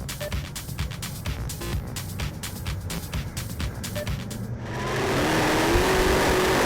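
Elf Cup racing cars rev and roar at the start of a race at Blenheim: a rapid, pulsing engine burble gives way to a steady loud whooshing rush as the pack gets away.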